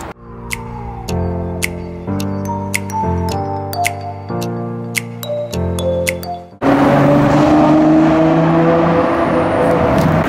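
Lamborghini Aventador SV supercar, preceded by a stretch of piano-like music, then a sudden loud, sustained engine roar with rising harmonic tones as the V12 revs close by.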